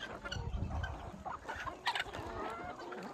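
Free-range desi chickens cluck and chatter in a farm orchard, several birds at moderate distance with irregular overlapping calls over soft background noise.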